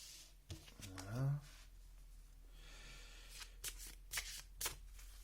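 Oracle cards being shuffled by hand, with a few soft rustles early on and then a series of brisk, crisp riffling bursts in the second half, close and fairly quiet.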